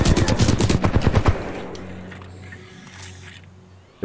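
Rapid bursts of automatic gunfire in the video game Titanfall 2 rattle loudly for over a second, then fade into a low humming tail with a faint sharp crack at the end.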